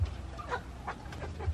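Farm chickens cluck in a few short, scattered notes over a steady low background hum, moderately near and alone without talk.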